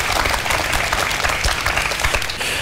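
A live audience at a Korean educational lecture concert breaks into dense, steady applause, many hands clapping together loudly and continuously with no voices rising above it.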